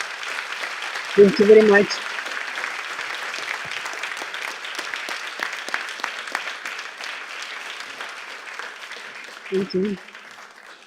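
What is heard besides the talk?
audience applause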